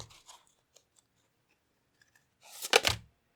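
Tarot cards being shuffled by hand, with a few faint scattered taps and flicks followed by a close, crisp burst of riffling cards near the end.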